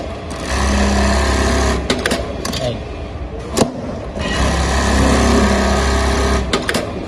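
A programmable pattern sewing machine stitches in two long, steady runs with a low motor hum and rapid needle chatter, broken by a pause with clicks and knocks, while a voice speaks nearby.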